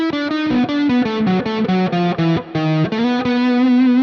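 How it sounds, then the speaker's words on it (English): A distorted electric guitar plays a quick blues lick, a run of separate notes stepping through passing tones before settling on a held note. "So I did a lick with some passing tones that sounded like this."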